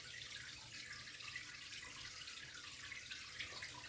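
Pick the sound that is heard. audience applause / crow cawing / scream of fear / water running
water running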